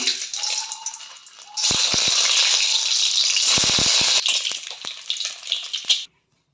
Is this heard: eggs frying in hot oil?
yes